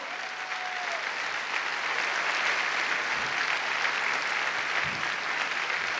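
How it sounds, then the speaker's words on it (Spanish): A congregation at a Spanish-language Sunday morning church service claps together, sustained even applause across the room, fairly soft and continuous from start to finish. "Dele ese aplauso al Señor."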